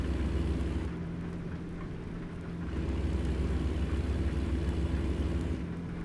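Heavy thunderstorm rain pours in a constant, dense hiss layered over a deep, steady rumble, with slight dips and swells in intensity and no speech.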